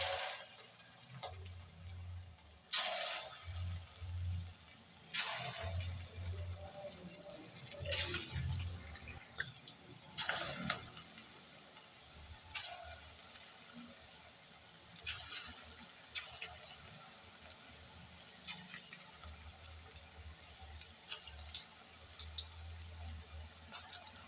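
Mashed potato bajji fritters sizzle and crackle steadily in hot oil over a medium flame, a soft continuous frying hiss dotted with small pops and occasional clinks, with no talking.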